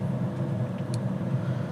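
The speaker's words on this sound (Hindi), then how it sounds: "ये आप एक्सीलेट कर रहे हो तो इंजन की साउंड बढ़ रही है" A car engine drones steadily as the driver accelerates from about 10 to 15 km/h, a continuous low rumble from inside the car with no clear rise in pitch over the short stretch.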